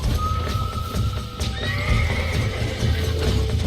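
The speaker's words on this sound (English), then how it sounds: "Oh, he relassoed the horse for me." Horse neighing and whinnying in the Red Dead Redemption video game, with a lasso caught horse, a long whinny over steady hoof clip-clop and game ambience, fairly loud and continuous throughout.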